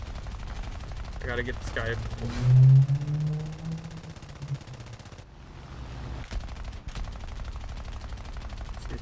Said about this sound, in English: Come on, front gunner, get some shots in.